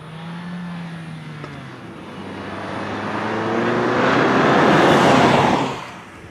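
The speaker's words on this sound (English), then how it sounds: "Nice little engine." A 2014 Fiat 500L engine under way drones low at first, then road and wind roar swell into a broad rushing surge as the car gathers speed before easing off, with no talk.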